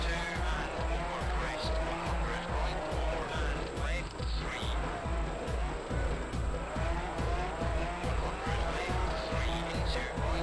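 Rally car in the PS2 game World Rally Championship 2, a loud engine drone pulsing rhythmically as the car slides and skids through a corner, continuous and close for the whole stretch.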